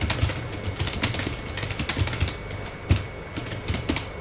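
Someone typing a name into a text box in Microsoft PowerPoint on a computer keyboard, a quick irregular run of close key clicks, clear and alone with no voices.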